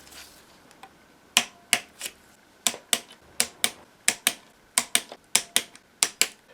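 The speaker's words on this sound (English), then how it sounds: "when it gets to a certain point it will click at the head" A torque wrench clicking at its set torque on a DRZ400SM motorcycle's clutch cover bolts, with a string of sharp, close clicks in uneven pairs over a quiet background.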